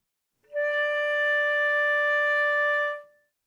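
A flute sounds a single sustained D natural in the second octave, a steady pure tone held for about two and a half seconds and then released, clear and alone.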